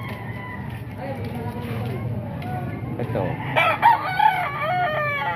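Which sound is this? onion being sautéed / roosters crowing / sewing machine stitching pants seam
roosters crowing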